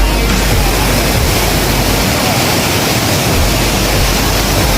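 Water rushing at Bhorle waterfall in Dolakha, Nepal, a loud, close, steady roar of broadband noise filling the whole stretch without a break.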